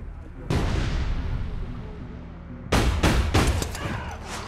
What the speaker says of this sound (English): I escaped the rocket and then got shot with the whisper pistol